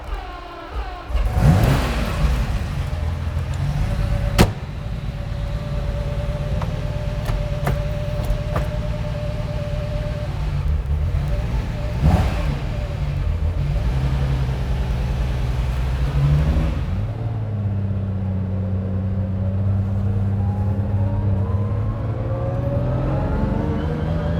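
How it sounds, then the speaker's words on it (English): A Lamborghini car is started and driven off, with a steady engine hum and a few louder bumps and whirs up close, and the motor note shifting toward the end with no talking. "Come on, let's take it out for a drive."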